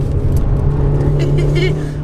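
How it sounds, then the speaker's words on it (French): A Peugeot 106 S16 Rallye engine pulls hard out of a corner, a loud steady in-car drone with road rumble, under someone talking. "Le moteur a beaucoup de couple, a du couple, ce qui permet de ressortir des virages assez forts"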